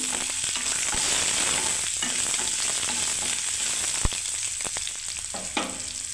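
Chopped tomato and raisins fry in a pan for oats pulao, a steady close sizzle with occasional sharp clicks of stirring against the pan.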